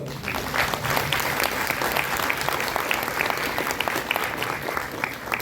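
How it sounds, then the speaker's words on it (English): A crowd at a World Tuberculosis Day event in Nagaland claps steadily, dense and even applause filling the whole stretch without letup. "Give a round of applause to all the"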